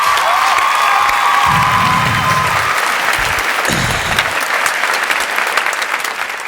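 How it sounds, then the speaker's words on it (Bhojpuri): A studio audience on a Bhojpuri talk show gives strong applause to welcome guest Pakkhi Hegde. The loud, sustained clapping has a few short cheers and vocal bursts mixed in, then eases slightly toward the end. "एक बार फिर से जोरदार ताली के साथ स्वागत करिए"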